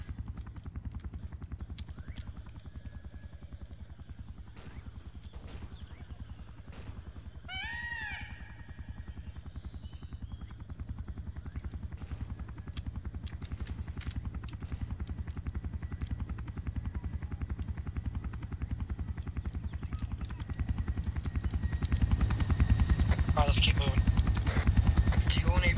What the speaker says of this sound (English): Helicopter. It's Russian,